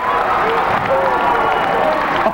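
Steady crowd roar and scattered applause fill a high school basketball gym during a 1997 Quincy game, loud and continuous throughout with voices mixed in.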